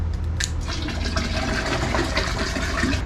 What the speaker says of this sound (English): just the act of pouring it in there should mix it up fairly well enough